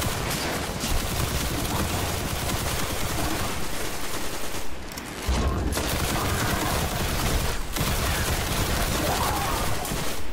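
Auto rifle fire in Destiny keeps up a dense, loud stream of rapid shots for nearly the whole stretch, broken by two short pauses, with no talk over it.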